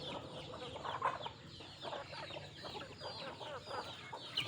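Newly laying young hens in a Thai poultry yard cluck in a soft, busy scatter of short calls, fairly faint and continuous, with no talking.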